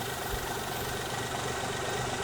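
A Daewoo Matiz engine with an idle fault, a steady close rumbling hum holding evenly with no change in pitch.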